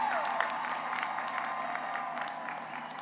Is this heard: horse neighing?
no